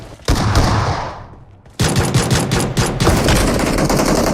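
Loud bursts of gunfire in PUBG Mobile, one volley that trails off into a short lull, then a dense, rapid stream of automatic shots that keeps going to the end.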